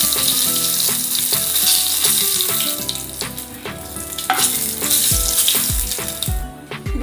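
Panch phoron, two bay leaves and four dried chillies hit hot oil with a loud, close, continuous sizzle and crackle, sputtering bursts and a few low knocks of the pan near the end, no speech.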